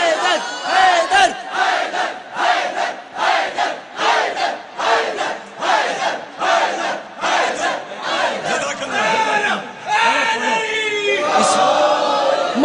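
A large crowd at a religious Shaban celebration chants slogans of Haidar and Ya Ali in loud rhythmic bursts, roughly one shout per second, repeating with brief dips between calls and rising into a sustained roar near the end.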